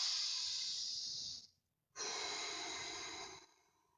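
Deep yoga breathing, close and alone: a long steady breath with an airy hiss, a brief pause, then a slow drawn-out exhale.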